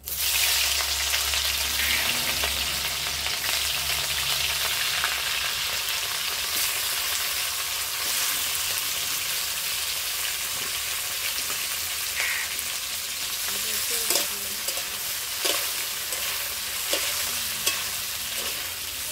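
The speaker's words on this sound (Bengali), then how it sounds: "এবার সব ভেজে নেবো।" Chicken coated with turmeric and spices frying in a pan, a continuous close sizzle with light stirring clicks and a few spatula scrapes.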